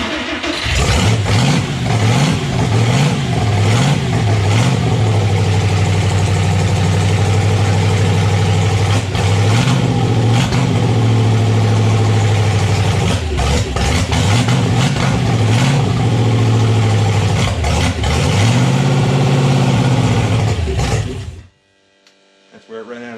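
A 241 Red Ram Hemi engine runs loud and close on its first start, with a rough, lumpy idle and repeated revs that swell and drop. It cuts out abruptly near the end, leaving near silence.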